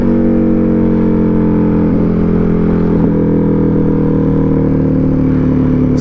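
Motorcycle riding down a steep mountain pass at about 20 mph, a steady loud engine drone with wind rush, continuous and close throughout, no talking.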